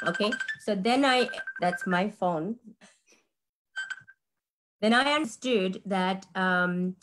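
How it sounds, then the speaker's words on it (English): A phone rings with a steady electronic tone that sounds in short stretches beneath ongoing talk, with a brief isolated burst during a pause in the speech. "Okay, so then that's my phone."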